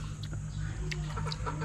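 Chickens cluck softly in short scattered calls over a steady low hum, nearby and fairly quiet.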